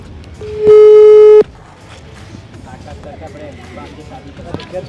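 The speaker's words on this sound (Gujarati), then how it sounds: "આપણે ફોન કરવા જઈ રહ્યા છે" A phone call on speakerphone sends out one loud, steady electronic ring tone lasting under a second. Voices then talk over quieter room noise.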